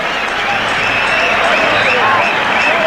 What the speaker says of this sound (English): Buzz around the crowd.